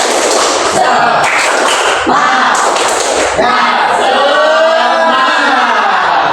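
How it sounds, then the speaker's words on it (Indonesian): A standing classroom of students performs a rhythmic spirit clap, with loud, patterned bursts of hand claps and stamping in the first half that give way to a group chant of voices. "coba tepuk semangat"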